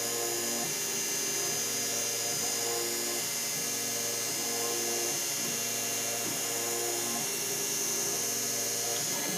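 A machine cutting a rifle barrel clamped in a vise gives a steady, loud high-pitched whine and hum, with a faint regular rhythmic pulse repeating about every second, no talking.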